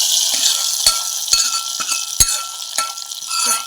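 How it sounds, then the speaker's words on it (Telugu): Onions sizzling in hot oil in a tempering for gongura dal, a steady bright hiss punctuated by several sharp taps of a spoon against the pan. "చూసారా ఉల్లిపాయలు కూడా వేగుతున్నాయండి."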